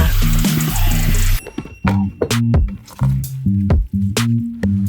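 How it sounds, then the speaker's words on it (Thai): Salted kimchi vegetables, napa cabbage among them, are rinsed of their salt brine by hand, with close, wet squishing and splashing bursts followed by drips between handfuls. "เรามาล้างน้ำเกลือออกค่ะ"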